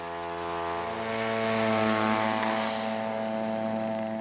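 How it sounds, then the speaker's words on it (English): An unmanned military spy plane drones steadily overhead on a routine flight above Iraqi positions in southern Kuwait, its propeller engine giving a continuous, buzzing tone that swells slightly and then eases. "the U.S. Marines sent an unmanned spy plane on a routine flight over Iraqi positions in southern Kuwait."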